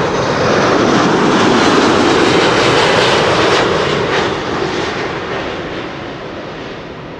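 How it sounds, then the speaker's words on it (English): A Delta Airlines Airbus A330-300 jet arriving after a long-haul flight from Atlanta roars loudly overhead, a broad sustained engine rumble that slowly fades as it passes by. "This is Delta Airlines Flight 74, an A330-300 arriving from Atlanta, Georgia."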